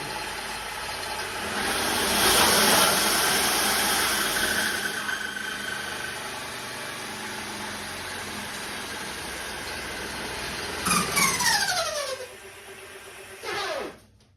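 Homemade CVT electric bike ridden at third speed, a steady motor whine and drivetrain hum that swells and then holds, with rising tonal sweeps and a brief louder burst near the end.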